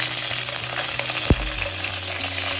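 Broken dried red chilies and green chilies fry in a pan with a steady crackling sizzle, and a single sharp tap of a utensil on the pan lands midway.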